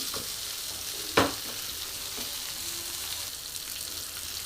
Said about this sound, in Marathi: कमी तेलावरती छान अशी वरची फ्राय होते